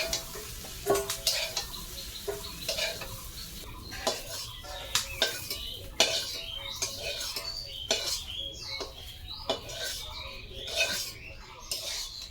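Soybean chunks, fried until reddish, are scooped from a hot pan into a bowl: repeated metal ladle scrapes and clinks against the pan over a faint sizzle, irregular and moderately close.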